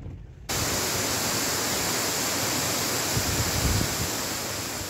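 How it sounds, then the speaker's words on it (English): A waterfall roars as a dense, steady broadband rush that starts abruptly after a short quiet moment and holds at an even level throughout, with no voices. "Here onwards, there was a series of beautiful waterfalls."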